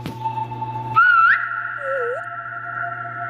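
A person whistles a couple of short wavering notes, rising then falling, over a steady hum of background game music; the whistling is close and clear but brief and unsteady.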